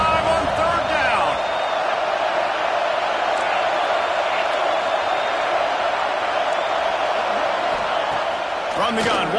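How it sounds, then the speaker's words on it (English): Ohio State Buckeye football stadium crowd roaring on third down, a steady, dense wash of cheering throughout with a broadcast announcer talking over it. "the Buckeye crowd alive on third down"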